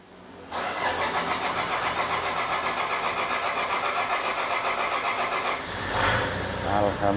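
Toyota Innova 2KD diesel engine cranking briefly, then catching and settling into a steady, clattering idle close by, with a short rise near the end; people talk over it.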